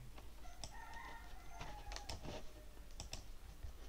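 Password being typed on a computer keyboard: a loose run of quick, uneven key clicks, fairly close and moderately quiet, over a steady low background hum.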